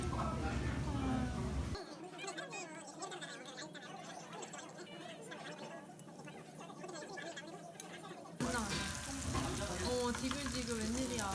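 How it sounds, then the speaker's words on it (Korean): Steady crackling sizzle of meat frying in a pan, continuous throughout, with people chatting over it. "지글지글 웬일이야"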